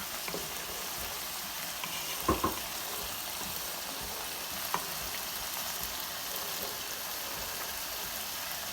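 Chicken pot pie filling bubbles and sizzles steadily in a pot while being stirred, an even close-up hiss with a couple of soft spoon knocks.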